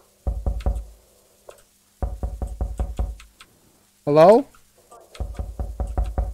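Knocking on a front door in the horror video game September 1999: three bursts of rapid, loud, close knocks, about four to six blows each, with a brief spoken word and a tonal game sound in the gaps.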